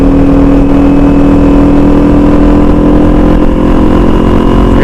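A 2021 Kawasaki Z400 motorcycle engine revving beneath a bridge, a loud, sustained droning hum held steady throughout with no talking.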